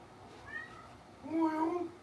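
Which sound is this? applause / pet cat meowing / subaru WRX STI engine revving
pet cat meowing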